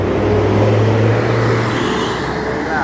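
A Jetbus 3 coach rumbles past with a low, steady engine drone that fades slightly toward the end.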